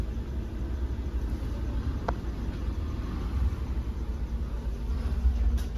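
A Maruti Ertiga BS4 with a manual gearbox and a Lovato kit idles on CNG with its engine running. The hum is low, steady and close, with a faint rumble, and nobody talks.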